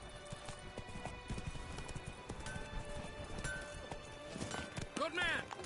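Roach, Geralt's horse in The Witcher III's Blood and Wine, clip-clops at a steady hoofbeat rhythm, with a whinny near the end and talk over the top.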